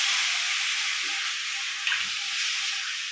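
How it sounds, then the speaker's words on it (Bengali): Coconut and jaggery filling sizzles steadily in a pan as it is stirred, a loud, close, continuous hiss with faint scrapes from the spoon and no voices. "এভাবেই নেড়ে চেড়ে নারকেলের পুরটাও আমরা রেডি করে ফেললাম"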